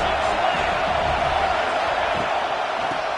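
A football stadium crowd roars in a sustained wash of cheering during a big third-down defensive stand, loud and continuous, with an announcer speaking underneath.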